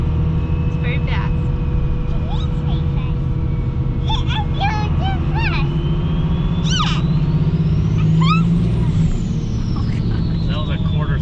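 A 2002 Dodge Ram 2500 with a Cummins 24-valve compound-turbo diesel accelerating at quarter throttle: a steady, deep engine drone with a turbo whistle rising and falling, heard from inside the cab under people talking.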